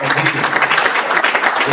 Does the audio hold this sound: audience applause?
yes